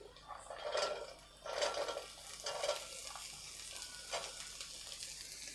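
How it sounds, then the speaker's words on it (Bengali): Carrots stir-fry in a pan for murir polao, soft sizzling with several scraping stirs coming in irregular bursts, fairly quiet and close. "দিয়ে ভালো করে নেড়ে চেড়ে নেব"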